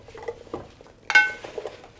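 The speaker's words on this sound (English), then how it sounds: "And mix that together." A spoon stirs apple pie filling with lemon juice and vanilla extract, giving soft wet patters and scrapes with one sharper clink against the bowl midway, close and fairly quiet with no talk.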